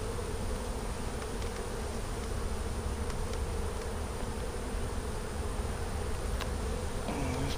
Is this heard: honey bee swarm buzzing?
yes